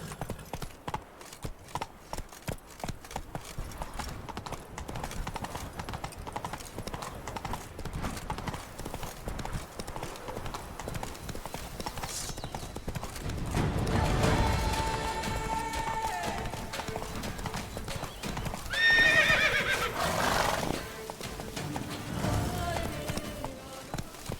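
Horse galloping in the video game Witcher 3, steady clip-clop hoofbeats running throughout over game ambience, with a brief whinny near the end and louder bursts of activity midway.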